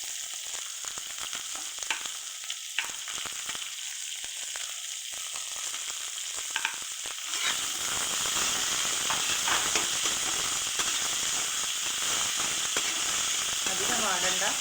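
Ginger, green chili, curry leaves and garlic fry in a pan with a soft crackling sizzle that swells into a louder, steady hiss partway through, with occasional stirring scrapes.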